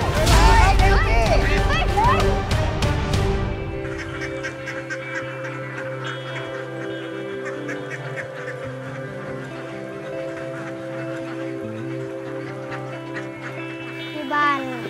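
Ducks being herded during a Thai game-show challenge fill the scene with a loud, dense chorus of quacks and honks amid crowd babble, busiest in the first few seconds and settling into a steady, layered flock murmur.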